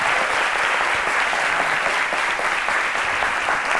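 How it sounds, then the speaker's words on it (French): A studio audience on a French midday talk show applauds in a dense, steady wash of clapping that stays loud and even from start to finish. "toujours sous les applaudissements de notre charmant public"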